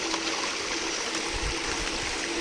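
Water falls steadily into a bucket, a continuous close splashing rush with low thumping churn, used as a dampener in a sand filter setup.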